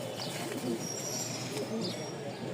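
Shuya chandan pigeons cooing in a cage, soft repeated low coos at a gentle rhythm over a constant background hiss, faint and close.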